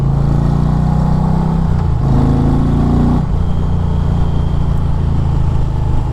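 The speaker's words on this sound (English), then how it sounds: "This sounds like a real motorcycle." An Indian Challenger motorcycle with a liquid-cooled engine idles with a deep, steady exhaust rumble, briefly rising in pitch as the throttle is blipped, then settling back.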